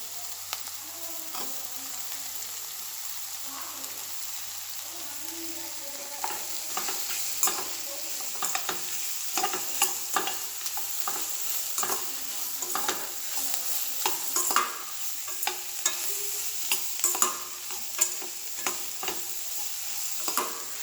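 Chopped ridge gourd pieces sizzle in a pan for hirekai palya, with a steady frying hiss under repeated sharp spatula scrapes and clacks that grow busier toward the end.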